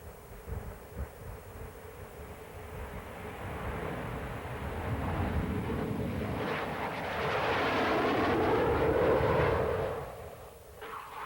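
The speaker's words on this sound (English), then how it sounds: "the Jaguar has proved to be a highly potent attack aircraft" A Sepecat Jaguar jet attack aircraft roars past at low level. A steady broad engine rush swells over several seconds to a loud peak, then eases off, with wind buffeting throughout.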